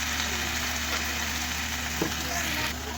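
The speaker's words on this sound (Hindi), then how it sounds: "इस तरह से हम फुल फ्लेम पर इसकी भुनाई कर लेंगे।" Green chillies roast on full flame in a pan, a steady, loud sizzle and crackle running unbroken throughout with one brief clink near the end.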